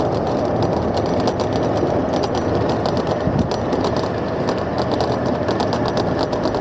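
A golf cart's motor runs steadily while it is driven on Catalina Island, a constant, fairly loud droning hum with no break and no talking.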